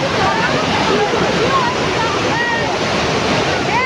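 Kiukhola waterfall roars loudly and continuously up close, a broad rushing wash of falling water, with brief voices faintly audible beneath it.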